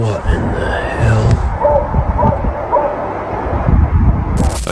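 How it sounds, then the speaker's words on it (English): A dog barks and yips a few times nearby, mixed with rough outdoor noise and a voice speaking. "A dog can be heard along with another source producing loud, unfamiliar noises."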